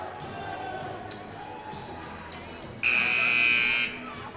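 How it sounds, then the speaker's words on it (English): A loud electronic buzzer at a high school girls' varsity basketball playoff game blares for about a second over the murmur of a crowd in a gym, with some talk in the background. "there's the buzzer, and we are just about set for the third quarter"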